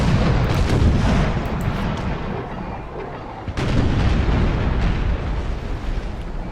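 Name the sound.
ship cannons firing in naval battle, video game Imperial Splendour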